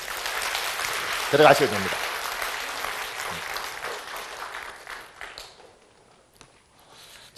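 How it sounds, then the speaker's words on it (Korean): Church congregation in Korea applauding after a pastor's call to honor volunteers: a broad wash of clapping swells briefly, then fades away as someone speaks. "그래서 차렷하고 경례할 박수 한번 할까요?"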